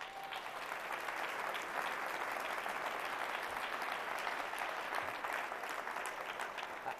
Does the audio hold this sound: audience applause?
yes